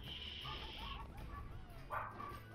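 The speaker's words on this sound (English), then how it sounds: "My dog is scared!" Scared cartoon dog in the game Rayman Origins, giving a few short whimpers and yips over faint game sounds, thin and quiet.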